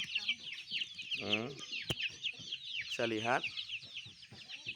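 Free-range village chickens and a rooster cluck and squawk close by in a yard, with repeated bursts over a constant chatter of fowl and a brief spoken remark in between.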